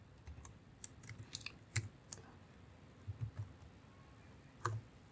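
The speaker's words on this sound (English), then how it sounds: "I can now start typing. Maybe I will type serial number." Scattered keystrokes tap on a computer keyboard while entering text into an Excel spreadsheet, a few sparse, soft clicks in small bursts with quiet pauses between them.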